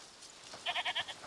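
Goat bleating in the video game A Plague Tale: Requiem, four short, evenly spaced bleats in quick succession, fairly close and clear over a quiet game backdrop.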